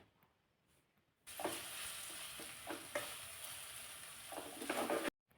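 Asafoetida and turmeric hit hot oil in a pan, a sudden loud sizzle that sputters steadily for a few seconds with occasional spoon scrapes and stirs, then cuts off.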